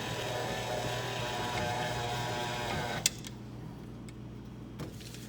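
A stand mixer churns a large batch of orange spice gingerbread cookie dough with a steady motor whir and hum, which then drops to a quieter idle drone.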